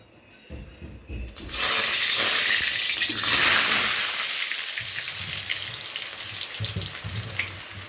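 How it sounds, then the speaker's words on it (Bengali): Potatoes drop into hot oil rendered from mutton fat and set off a sudden loud burst of sizzling that slowly settles into a steady fry, with a few light stirring sounds. "এবারে তেলের মধ্যে প্রথমে আমাদের আলুগুলোকে ভেজে নিতে হবে"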